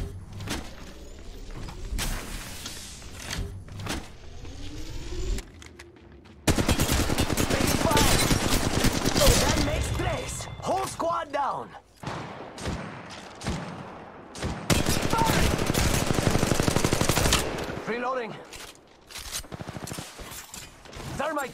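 An attacking squad in Apex Legends Mobile fires in loud, sustained automatic bursts, with long rattling stretches broken by short pauses, mechanical clicks and near gunfire, while players talk.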